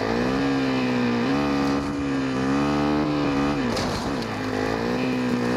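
A motorbike in the DMZ video game is ridden, its engine holding a steady loud droning hum with slight pitch rises and dips, near and continuous, without talk.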